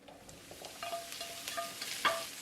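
Broccoli tossed into hot oil with minced garlic in a wok, soft sizzling under scattered scrapes and clinks of a spatula stir-frying, close and fairly quiet with no talk.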